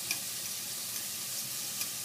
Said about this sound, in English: Now we go back in the same pot, throw some bacon in that shit.